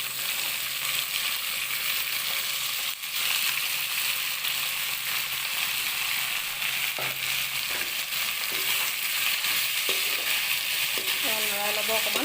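Cabbage frying with already-browned onions in a pan for chow mein, with a loud, constant close sizzle, occasional stirring knocks, and a voice faintly heard near the end.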